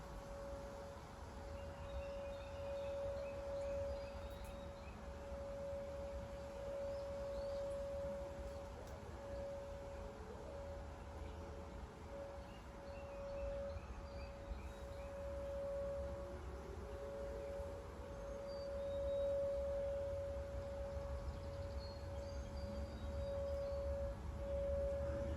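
A distant tornado civil defense siren sounds during a scheduled test, holding one steady wailing tone that swells and fades slightly as it rotates. It continues unbroken for the whole stretch over quiet outdoor background noise.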